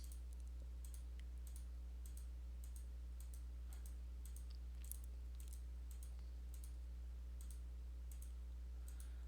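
Mouse clicks while playing the Dominion card game online: faint, regular sharp clicks repeating every half second or so over a steady low electrical hum, with no voices.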